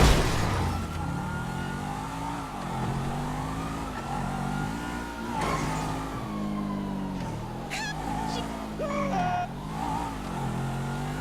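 Car engine revving in the video game GTA 5, a continuous mid-pitched engine drone that rises and falls repeatedly, with a few sharp squeal-like sounds near the end.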